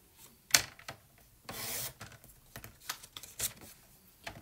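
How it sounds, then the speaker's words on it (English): A piece of paper being cut for card making, heard as quiet clicks and taps with one short slicing swish in the middle, close and faint. "I'm going to take this piece and cut it 3 inches"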